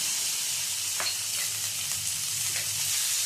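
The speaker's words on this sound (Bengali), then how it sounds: "চিকেনটা দিয়ে একটু ভাজা ভাজা করে নেব" Marinated chicken pieces fry in a pan with a steady, close bright sizzle, broken by a few faint stirring scrapes; no talking.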